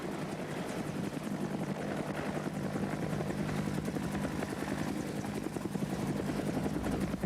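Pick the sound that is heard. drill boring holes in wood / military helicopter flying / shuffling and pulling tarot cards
military helicopter flying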